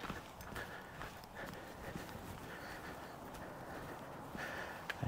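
Horses moving across a countryside field, their hooves producing soft, irregular thuds over a steady outdoor background, fairly distant and fairly quiet throughout.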